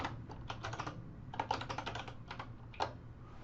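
Rapid typing on a computer keyboard, a quick run of close, crisp key clicks that pauses briefly and resumes in short bursts, alone with no talking.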